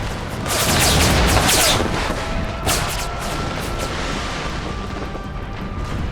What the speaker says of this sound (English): Devastating amounts of cannon fire.